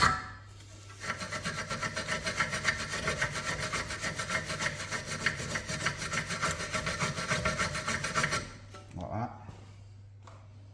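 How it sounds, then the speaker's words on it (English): Steady, rapid rasping of a wire brush scrubbing rear brake parts on a Volkswagen Passat, heard up close for about seven seconds before stopping, with someone speaking briefly afterward. "So we're going to give them a little wire brush first."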